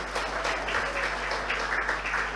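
Audience applause at a national seminar on Indonesia as a global halal tourism hub, a steady dense patter of clapping from a hall crowd sustained throughout at moderate level, with no voices over it.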